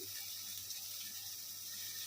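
Water boiling in a pot for Maggi noodles gives a steady, even bubbling hiss that holds unbroken from start to end, with no voices over it.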